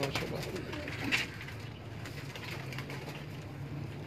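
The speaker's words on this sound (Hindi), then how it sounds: "ये दोस्तों रामपुरी कबूतर है" Rampuri pigeons at a breeder's loft in inner Lahore cooing softly over a low steady hum, with a brief louder flutter near the start.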